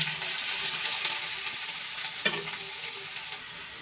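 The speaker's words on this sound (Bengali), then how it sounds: "এবার আমি কড়াইয়ে তেল দিয়ে দিয়েছি এবার পেঁয়াজ কুচি দিয়ে দেবো" Chopped onion and green chili frying in oil in a wok, a continuous hissing sizzle with occasional stirring scrapes and a single clear clink of a utensil against the pan midway.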